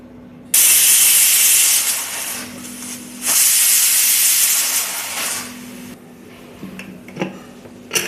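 A pressure cooker of toor dal with tomato lets out loud, sustained hissing bursts of steam, two long blasts followed by weaker sputters as it quiets.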